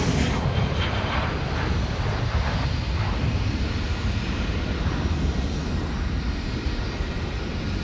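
Air China airliner pushing back at Sydney Airport at night, a steady loud roar of aircraft engine noise that holds evenly throughout, with no talk over it.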